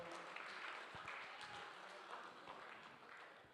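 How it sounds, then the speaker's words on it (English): Audience applause at a men's empowerment summit opening session, a dense steady wash of clapping that fills the whole stretch at an even level and sounds distant and fairly faint. "Everybody clap it up."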